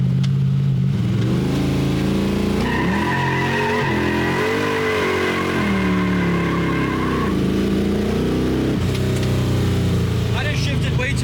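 A Small Block Chevy drag car with an 8HP70 transmission accelerates hard and loud, its engine note climbing and dropping as it shifts through gears. Tire squeal and a voice can be heard over the engine.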